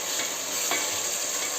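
Tomato dropped into hot oil with turmeric sets off a brief, steady sizzle and hiss, close and moderately loud, with no talking.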